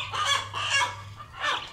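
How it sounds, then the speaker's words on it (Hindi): A rooster clucks and squawks in agitated bursts while being caught by hand on a farm, three close, loud calls with brief gaps and no talk. "मुर्गे को पकड़े"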